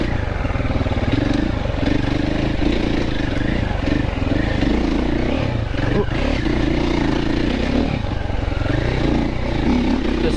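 A Triumph TF450C off-road motorcycle engine runs steadily and loud throughout while being ridden on a slippery trail with tree roots, a continuous low rumble with small throttle swells and no pauses.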